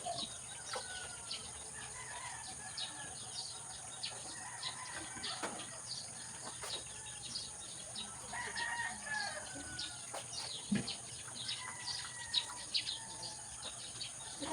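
A mother hen and her chicks cluck and peep around a yard, with soft scattered calls and occasional louder squawks over a quiet steady background hum.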